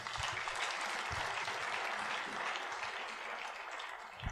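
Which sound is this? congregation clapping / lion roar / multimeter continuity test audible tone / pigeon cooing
congregation clapping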